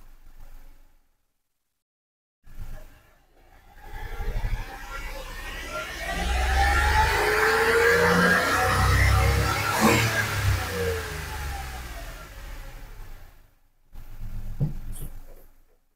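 Mitsubishi Mirage engine revved hard, rising in a loud sweeping climb and holding high for several seconds before dropping off, with short engine bursts before and after.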